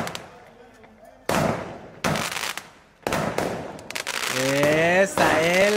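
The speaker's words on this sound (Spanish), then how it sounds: "todos los vecinos asustados porque weón está prendiendo fuegos artificiales" Fireworks go off nearby in a neighborhood as a series of sharp, loud bangs and crackling bursts spaced about a second apart, followed by rising whistles, with scattered voices between the blasts.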